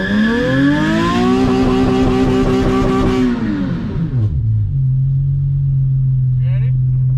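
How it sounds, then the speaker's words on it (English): A Toyota Supra MK5 engine revs hard and climbs steadily while its tires are warmed up, then the revs drop away to a lower steady drone, loud and close, with a brief voice near the end. "Hold on, let me warm my tires up real quick."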